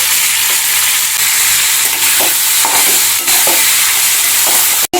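Onion frying with a pinch of salt in a pan for Afghani egg curry, a loud continuous sizzle broken by repeated spatula scrapes and knocks, ending with a sharp click.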